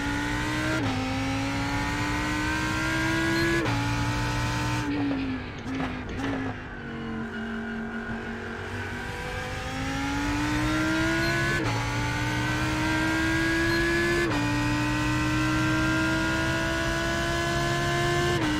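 Lamborghini Huracan EVO GTE race car at Daytona at night in a racing video game, its engine droning loud and steady with rising revs through gear shifts, dipping briefly on a downshift into a corner before climbing again.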